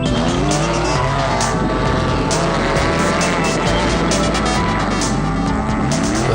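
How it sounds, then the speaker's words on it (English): The Fossies Racing BMW rally car's engine revs hard during the Delareyville 200 off-road race, a loud, continuous high-pitched howl with rising and falling pitch sweeps and tire noise, close and unbroken throughout. "Incredible revs coming out of the Fossies Racing BMW."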